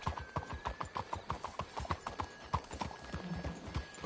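Horse hooves clip-clopping in the video game Red Dead Redemption 2, a steady, close, rhythmic trot of hoofbeats over a few seconds, with a faint whinny and a thin steady tone in the background.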